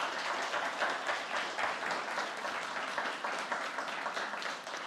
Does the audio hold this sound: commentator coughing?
no